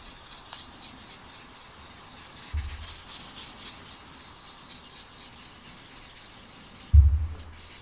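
A fine-grit polishing stick rubs back and forth over a clear plastic canopy from a 1/32 Tamiya F-16CJ model kit, a soft, faint, steady scratching heard up close, with a couple of light knocks on the bench.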